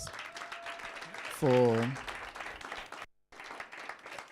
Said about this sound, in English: I think you guys deserve a huge round of applause